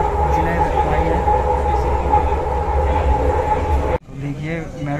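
A Delhi metro train runs with a steady close rumble and hum from inside the carriage, then the sound changes abruptly near the end, with voices faintly present under it.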